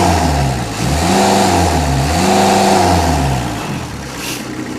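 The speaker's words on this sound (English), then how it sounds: "You can hear right there the fan is still spooling down." A loud engine drone with harmonic tones that rise and fall in pitch as the cooling fan of a 2008 FINN B70RHD straw blower spools down, whirring at steadily shifting speed, close by and continuous.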